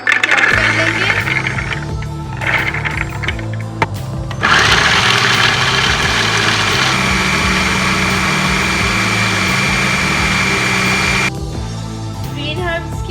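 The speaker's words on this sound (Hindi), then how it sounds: "सबसे पहले चनों को जो है वो चॉपर में डाल के अच्छे से चॉप कर लेंगे।" An electric chopper whirs loudly, grinding chickpeas for falafel in a kitchen in several bursts, the longest a sustained run of about seven seconds before it stops.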